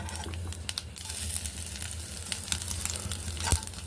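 Garlic dropped into hot oil while cooking a raw banana fry, producing a crackling, crinkly sizzle with scattered pops and one sharper clatter near the end, no voices.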